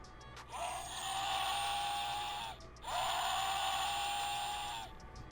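An old Pokemon kids meal toy, about twenty years old, gives off two long electronic tones, each starting with a short rising chirp and then holding steady. The tones are faint and close, with a short gap between them.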